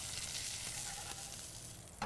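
Salmon sizzles steadily in a hot pan, a close, even hiss of frying with faint crackles and no talk.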